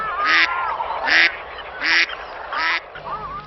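Migratory waterfowl arriving from Nepal, Tibet, Siberia and beyond call in four loud, regular honking bursts, evenly spaced and close, with no talk over them.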